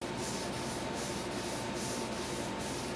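A cloth rubs Ipswich Pine wood stain onto a pine kitchen table, a soft, steady swishing with faint rhythmic strokes, close and quiet with no talking.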